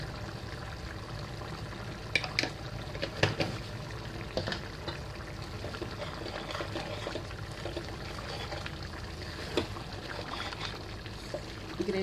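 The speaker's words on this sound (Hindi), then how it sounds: "ग्रेवी के गाढ़ा होने तक पकने देंगे इसे।" Green chilli gravy (Hyderabadi mirchi ka salan) simmering in a pan, giving a steady low bubbling hiss with soft intermittent pops and ticks throughout, no talking.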